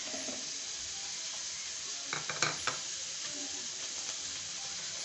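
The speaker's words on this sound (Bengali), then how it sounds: "চলো এটা কড়াইতে ভাজা হতে থাক" Puti fish fry in a wok with a loud, steady sizzle close by, broken by a brief cluster of clinks and scrapes from the pan partway through.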